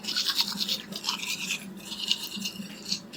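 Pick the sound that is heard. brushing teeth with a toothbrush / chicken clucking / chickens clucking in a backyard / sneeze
brushing teeth with a toothbrush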